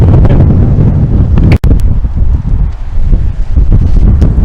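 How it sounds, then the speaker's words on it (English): Loud, close wind buffeting the microphone, a heavy continuous rumble with gusty surges and a brief dropout, outdoors at Stannergate in Dundee, Scotland. "And it's quite windy."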